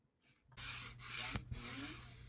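A cutting machine scores paper with its scoring stylus, producing a steady, close whirring drag that starts abruptly and holds with a low motor hum and a couple of small knocks.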